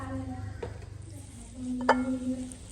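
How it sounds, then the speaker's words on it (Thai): Shrimp frying in a pan, a low steady sizzle with a couple of sharp utensil clinks and scraping stirs against the pan. "เจียว เจียวกุ้งใส่ประกอบพี่น้องจ้ะ"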